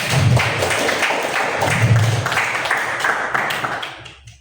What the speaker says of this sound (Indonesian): Tepuk tangan dulu untuk kalian semua.